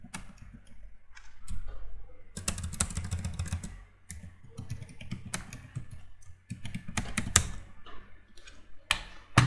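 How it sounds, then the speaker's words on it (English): Rapid clicking of typing on a computer keyboard while a password is entered, in uneven bursts of keystrokes with short pauses, fairly close and clear. "So you have to type here the same password which you have given in second steps."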